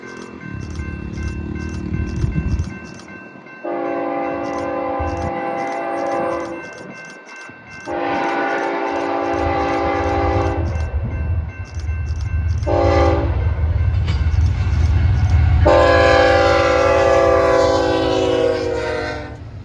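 BNSF eastbound intermodal freight train passing at about 60 mph on the Mojave Desert mainline, sounding several long, loud horn blasts as the rumbling wheels and cars roar by close.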